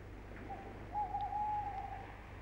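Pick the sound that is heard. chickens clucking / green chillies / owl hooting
owl hooting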